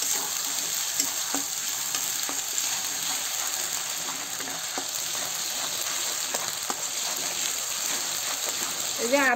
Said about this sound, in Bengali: এই যে আদা জিরাটা ভাজা হয়ে গেছে